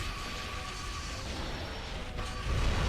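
Grind boots sliding along a metal rail in Ratchet and Clank Future: Tools of Destruction, a steady loud metallic grinding rush with a faint high whine, swelling slightly near the end.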